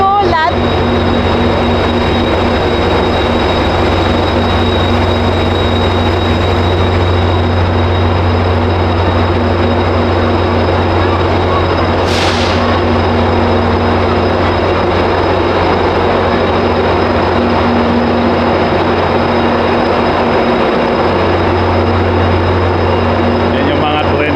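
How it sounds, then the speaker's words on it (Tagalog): Continuous loud rumbling drone of a Metra train idling or moving slowly nearby, with a steady hum and a brief sharp hiss midway. "Garahe ng tren. Ang ingay."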